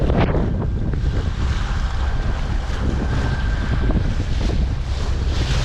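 Strong wind roars across a sailing boat at sea near Phuket, Thailand: loud, constant buffeting gusts with wave wash beneath and no voices.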